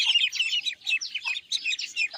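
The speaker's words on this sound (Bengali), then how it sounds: "অনেক বাচ্চা আছে, হাঁসের বাচ্চা এগুলো" A group of ducklings chirps continuously at close range, a busy overlapping stream of high, rapid peeps with brief pauses.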